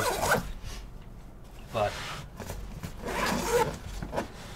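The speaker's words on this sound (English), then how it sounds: "I've never unzipped them until just then." Several quick raspy zipper pulls on a Pound Carlton bag pocket, close by, with brief talking between them.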